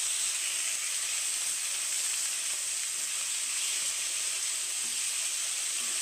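Skinless boneless chicken sautéing in a pan, a steady, even sizzle and hiss of frying that holds constant throughout, close and moderately loud with no voices.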